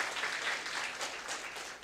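Audience applause at a 2020 business presentation, a steady wash of clapping from many hands that holds fairly even for about two seconds.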